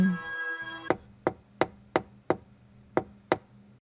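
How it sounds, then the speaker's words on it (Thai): Knuckles rap on a car's window glass: eight sharp, evenly spaced knocks in a steady rhythm, close and distinct, following a brief low hum at the start. "จู่ๆผมได้ยินเสียงเคาะกระจกดัง"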